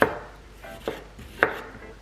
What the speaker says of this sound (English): Peel your cucumber and slice it into thin slices.